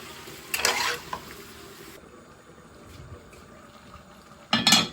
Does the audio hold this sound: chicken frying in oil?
yes